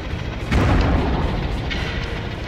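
A dropped bomb exploding in the Warbirds WW1 flight simulator, one deep rumbling boom about half a second in that lingers and slowly decays under steady engine drone.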